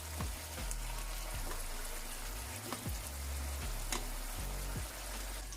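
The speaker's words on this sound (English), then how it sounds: "I'm gonna leave this for 2 to 4 minutes on low, so it can simmer down" Gravy for a honey garlic salmon dish simmering on low in a pan, a soft, steady bubbling crackle with faint regular pops and low thumps underneath.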